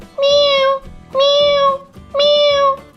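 Three loud, drawn-out meows in steady succession, each about half a second long with short pauses between, close and clear.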